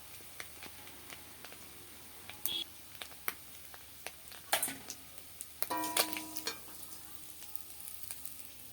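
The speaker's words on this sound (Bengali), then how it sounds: "এই দেখুন মাছগুলো কীভাবে লাল লাল করে ভেজে নিয়েছি।" Mourala fish frying in hot oil in a pan, with a faint steady sizzle broken by scattered ticks, small clatters and a few louder spattering bursts.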